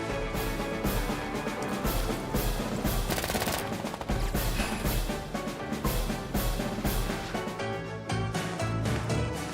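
Units firing in the turn-based strategy game Advance Wars: dense, loud bursts of gunfire effects and rapid machine-gun rattles overlapping almost continuously, with short gaps between volleys.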